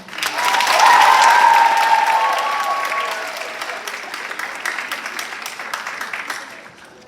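An indoor audience at a school presentation applauds to welcome a speaker, a full burst of clapping that swells quickly, holds, then gradually thins and fades out.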